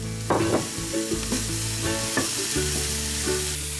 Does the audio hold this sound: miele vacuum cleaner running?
no